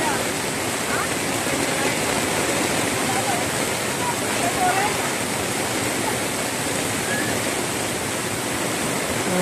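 Fast-rising Marikina river water rushes in heavy rain, a loud, steady broadband roar like a waterfall that holds unbroken from start to finish.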